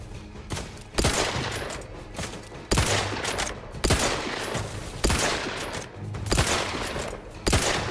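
Rapid automatic gunfire from The Outer Worlds 2 video game, bursting in repeated sustained volleys with sharp onsets roughly every second or two, loud and close, with no talk.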